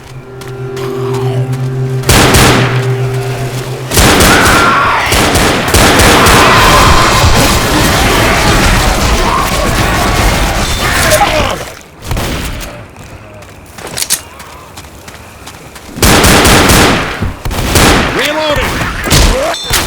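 Bursts of gunfire and booming shots from the zombie shooter Left 4 Dead come in loud clusters with quieter gaps between them, while voices speak now and then.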